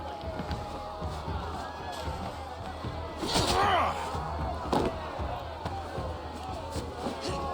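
In Assassin's Creed Valhalla an enemy slams his body into the player, a heavy thudding impact amid scuffling combat sounds and background crowd noise, with talk nearby.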